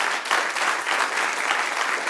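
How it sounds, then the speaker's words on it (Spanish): A church congregation applauding during a sermon, steady, dense clapping from many hands filling the room, loud and continuous with no speech on top. "dele un aplauso al Señor."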